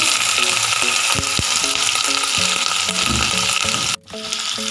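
Garlic, ginger, corn, paneer and capsicum sauté in hot oil in a pan, a steady loud sizzle running throughout beneath background music, with a brief dropout near the end.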